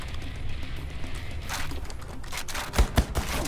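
Gunfire in a video game: a stretch of quieter ambience gives way to rapid bursts of shots, with two sharp, louder reports near the end.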